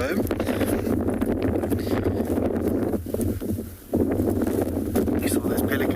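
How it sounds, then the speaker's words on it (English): Strong wind on an afternoon safari drive in South Africa, a steady roaring buffet across the microphone that briefly drops near the middle before surging back, with a voice talking underneath. "But really, really windy still. I'm sure you can hear it from where you are sitting at home."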